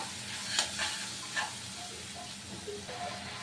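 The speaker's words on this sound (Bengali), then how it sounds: "আমি ভালোভাবে নেড়ে চেড়ে দেব।" Spices with salt and turmeric frying in a pan for a fish curry, a soft continuous sizzle with a few faint scrapes of stirring, no one talking.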